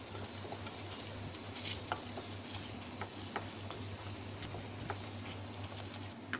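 Thin rice flour water is stirred into a simmering egg curry, with a steady bubbling sizzle and soft ticking taps of the spoon against the pan, close and continuous, no talking.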